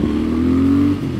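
A Triumph Thruxton RS parallel-twin motorcycle pulls hard in second gear, its exhaust note rising steadily in pitch across a short, loud burst before easing off.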